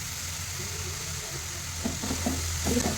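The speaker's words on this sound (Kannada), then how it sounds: "ಉರಿನೊಳಗೆ ಜರ ಚಂದ ಫ್ರೈ ಮಾಡಬೇಕು" Ground peanuts frying in a village-style dill leaves curry, with a soft steady sizzle close by and stirring scrapes growing more frequent toward the end.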